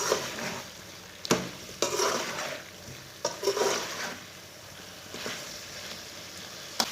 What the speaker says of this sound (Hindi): गोभी को मैंने 3 मिनट तक भून लिया।